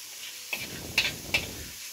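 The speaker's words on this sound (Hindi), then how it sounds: "मसाला भून रहा है, कलर बहुत प्यारा सा आ रहा है।" Masala spices fry in mustard oil with a steady, faint hiss, and three short crackling pops break in at roughly even intervals.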